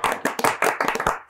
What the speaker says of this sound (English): I realised we didn't give you a round of applause.